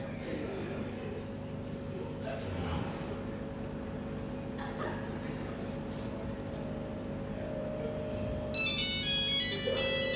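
A mobile phone ringtone plays its electronic melody amid a steady, droning background hum, becoming brighter and louder toward the end of the stretch, with no speech heard.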